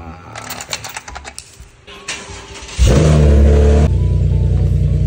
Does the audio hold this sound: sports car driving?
yes